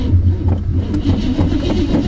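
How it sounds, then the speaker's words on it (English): A van engine failing to start, a loud, close, uneven low grinding of the starter cranking without catching, pulsing through a short burst with no voices. "And now the engine won't start again!"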